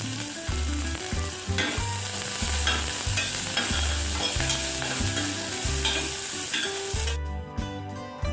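Cut green chillies fry in a pan for a brown rice pulao, with continuous sizzling and repeated rhythmic stirring scrapes of a spoon, close and fairly loud, no talking.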